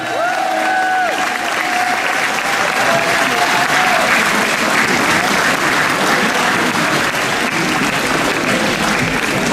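Sustained loud applause with cheering from a crowd at a 2015 road race prize ceremony in Angoulême, saluting the race winner; dense, even clapping that holds steady throughout, with a few shouts and voices mixed in near the start.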